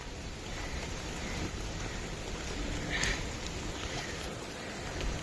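Steady, dense hiss of rain falling continuously, close and fairly loud, with no voices.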